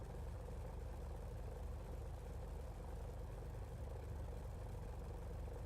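Simulated P-51 Mustang piston engine idling at about 1,500 RPM in the DCS flight game, a steady, dense low rumble with no break or change in pitch for the full length.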